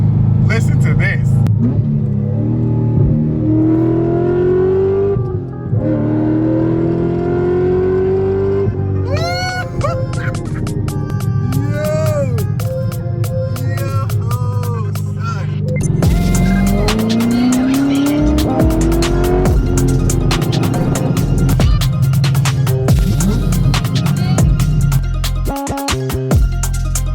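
A Corvette Z06 revs hard with loud, sustained tire squeal and engine wails that rise and fall, punctuated by crackles. Voices shout and talk over the din.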